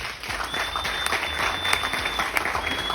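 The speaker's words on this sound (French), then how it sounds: "Est-ce qu'on peut applaudir pour ça?" An audience at a business opportunity presentation applauds in a steady, moderately loud burst of clapping that lasts throughout.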